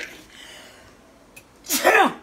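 A single loud sneeze bursts out near the end, preceded by a quick inhale, after a stretch of quiet room tone.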